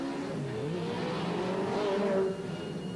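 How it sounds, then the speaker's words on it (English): Legends race cars on a warm-up lap, their engines droning and revving steadily at close range, with one car's pitch rising and then dropping off near the end. "the cars started their warm-up lap"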